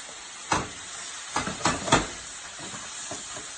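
Onions sizzle steadily as they caramelize in a hot pan, a constant close hiss broken by a few louder bursts of crackle from stirring.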